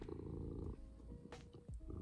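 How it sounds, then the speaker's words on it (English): A cat cuddling close purrs in a low, steady rumble, near and continuous through the short stretch, with a brief soft rustle partway through. "look, my kitty cat is cuddling with me"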